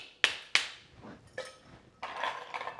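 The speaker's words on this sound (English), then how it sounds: "Crack our first ice cube." Two sharp cracks as an ice cube is struck for a Bushmills Black Bush cocktail with coffee liqueur, followed by softer clinks and rattles of ice settling in a mixing glass, close and alone with no talk.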